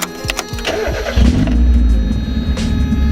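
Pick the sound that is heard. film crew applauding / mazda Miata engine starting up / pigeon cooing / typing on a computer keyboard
mazda Miata engine starting up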